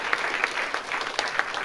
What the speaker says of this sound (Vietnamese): Hãy cùng tôi một lần nữa vỗ tay cảm ơn Chúa vì điều mà Đức Chúa Trời làm cho chúng ta.